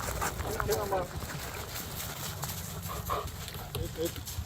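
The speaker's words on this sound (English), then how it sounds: "It's quite the responsibility having these guard dogs here." Guard dogs on a farm raising meat birds panting and giving a few short barks and whimpers, fairly quiet, mixed with people talking and outdoor background noise.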